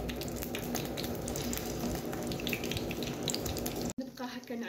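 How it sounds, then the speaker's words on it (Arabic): Bread soaked in milk fries in a little oil in a pan with a busy close sizzle and crackle, broken by a brief clatter near the end that leaves a quieter hiss. "جبت مقلة حطيت فيها شوية زيت وحطيت الخبز هذاك فيها باه يتقلى"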